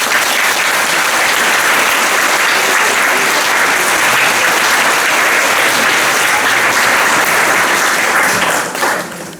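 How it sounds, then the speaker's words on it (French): Sustained applause from a large crowd at a school graduation ceremony, loud and steady throughout before tapering slightly at the end. "leur amour méritent les plus vifs remerciements et de chaleureux applaudissements"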